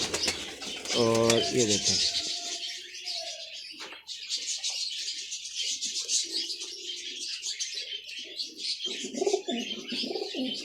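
Pigeons cooing with soft chirps and some wing flutter close by in a loft of champion Lahore racing pigeons, while someone talks intermittently over the birds.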